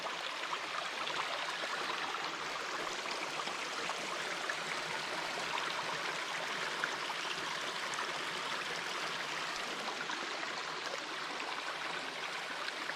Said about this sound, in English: Resting here by a little babbling brook.